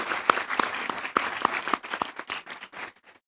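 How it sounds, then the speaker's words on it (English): A graduation ceremony audience at Asia Pacific University applauds its teachers, with a steady wash of many hands clapping that stays fairly strong and then thins out and fades away over the last second. "join me in a round of applause to thank those that have taught you"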